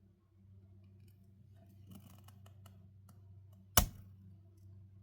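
A single sharp snip of scissors cutting off a piece of small chain, close and crisp, standing out against a faint low hum and light handling clicks in an otherwise quiet room.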